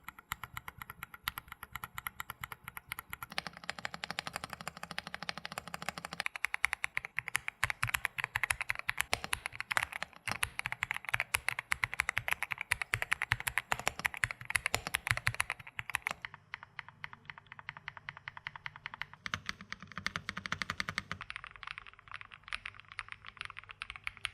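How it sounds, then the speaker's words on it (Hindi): Rapid, clacky typing on two mechanical keyboards in turn, including an EPOMaker TH80 Pro V2, close to the mic, with dense bursts of keystrokes and brief changes in tone between sections. "ये रहा साउंड टेस्ट दोनों कीबोर्ड का आपके सामने।"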